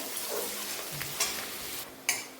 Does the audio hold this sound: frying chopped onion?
yes